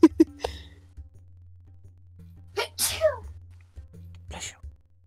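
Someone sneezes sharply at close range during a tabletop role-playing game session, followed by brief speech and other short vocal sounds over a low steady hum.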